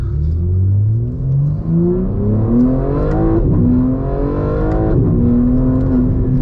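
A car on a winding highway drive accelerates hard through rising gears, its engine note climbing in pitch with each pull and dropping at shifts, loud and close throughout with a steady road rumble beneath.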